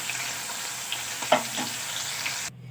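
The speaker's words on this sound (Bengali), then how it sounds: "তো আমি ওই মাছগুলো তুলে নিয়ে বাকি মাছগুলো একই রকমভাবে ভেজে নেব।" Leftover pieces of magur catfish fry in hot oil with a steady, close sizzle, a brief stir or clatter near the middle, then the sound cuts off abruptly; no one speaks.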